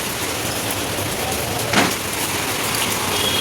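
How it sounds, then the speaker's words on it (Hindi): Steady rain falling outdoors, a dense continuous hiss with a brief louder splash partway through, heard alone without any talk. "फ्रेंड्स बारिश हो रही बताती चलिए"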